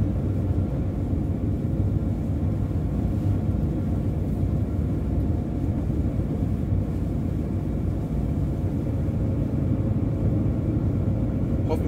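A Mercedes-Benz Sprinter van drives at about 60 km/h on a winter night through the Harz near Torfhaus, its engine and tyre roar forming a steady, loud, unbroken low rumble with no pauses.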